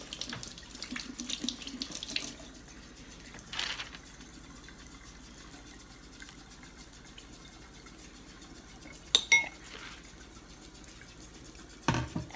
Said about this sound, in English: I'm going to run some water here